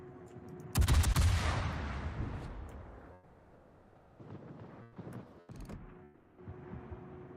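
Heavy naval gunfire from the cruiser Salem in World of Warships: a loud booming salvo with a long rumbling decay, followed by several sharper, quieter shots and distant blasts.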